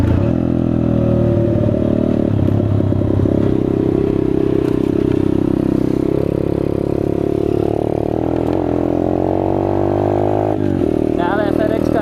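A Chinese dirt bike engine runs steadily up close, a loud, continuous motor drone whose pitch rises and falls gently with the throttle, with some clatter and a brief dip near the end.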